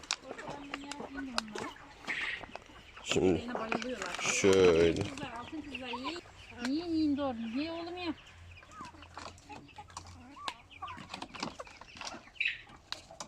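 Backyard chickens and roosters being fed cucumber cluck and squawk in bursts, with wing flaps and scattered calls nearby while someone speaks briefly.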